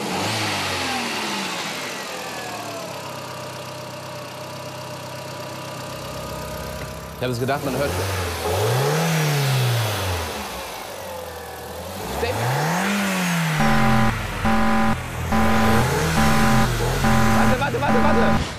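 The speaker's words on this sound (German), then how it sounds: "könntest du wohl bitte das Aggregat mal starten?" A sport coupé with more than 200 PS starts up and idles. Its engine is then revved in several rising and falling sweeps, with short sharp blips at the end, while people talk nearby.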